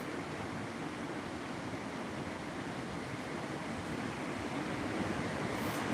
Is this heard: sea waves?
yes